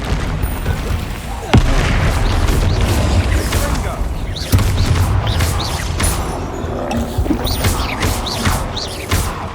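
Bombarda spell explosions in the Hogwarts Legacy video game go off as repeated heavy booms and sharp bursts over a constant loud din of combat effects, with a few clear spikes standing out.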